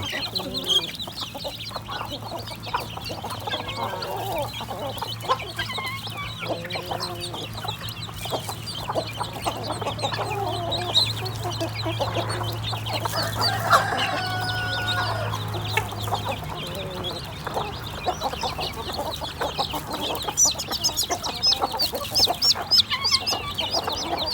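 Native Thai hens clucking continuously with their chicks while foraging and feeding, steady close clucks and peeps over a constant low background hum.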